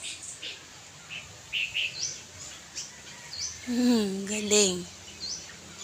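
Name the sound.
bird calling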